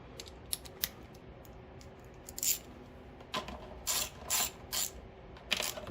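Outer nuts loosened on a Firman dual fuel 7500 watt generator, a series of short metallic ratchet clicks in quick bursts, close and fairly quiet, no talking.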